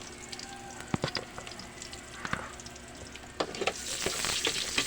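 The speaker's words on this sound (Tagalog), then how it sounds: "ginisa na yung bawang sibuyas ng aking manager" Garlic and onions sauté in a pan for a vegetable dish, a soft, steady sizzle broken by scattered clicks and scrapes of stirring, with the frying swelling louder toward the end.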